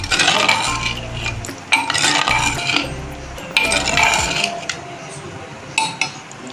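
Slurry being stirred into a pot of kuna gosht, a mutton curry, with a metal spoon clinking and scraping against the pot in irregular bursts, close and clear.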